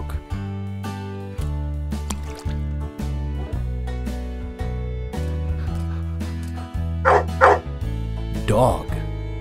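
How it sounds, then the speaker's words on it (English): A dog barks a few short times over a steady background music track, with the barks clustered toward the end. "Dog."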